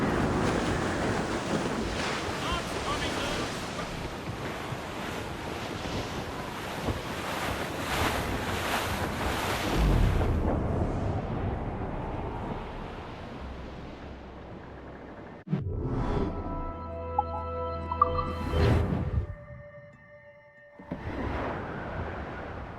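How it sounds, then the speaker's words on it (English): Wind gusts and ocean surf rush loudly around a sailing ship in Assassin's Creed Rogue as the wind picks up, a dense roar that drops away midway before short bursts of ship and game sounds follow. "The wind is picking up!"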